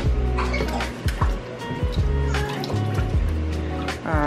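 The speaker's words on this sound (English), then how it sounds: "you thaw out chicken with cold water" Cold tap water running over frozen chicken to thaw it, close splashing and gurgling with irregular drips and pops, and a brief rising fill tone at the end.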